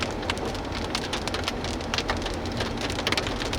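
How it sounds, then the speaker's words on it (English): Hail and rain pelting the ground and surfaces during a spring storm amid a tornado outbreak, a dense, steady clatter of many small impacts, loud and continuous, with no voices. "Hail."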